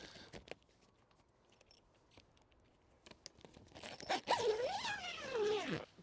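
A zip pulled along an Outsunny polytunnel cover outdoors at an allotment, heard after some light handling and rustling as a long, rising and falling rasp, close and fairly loud.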